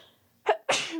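A single close, sharp sneeze with a quick inhaled lead-in followed by the loud burst, heard alone in a quiet room.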